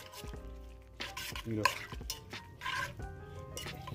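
Seasoned base for BBQ pinto beans stirred in a pot, a spoon repeatedly scraping and knocking against the sides over a gentle sizzle, close and clear, no speech.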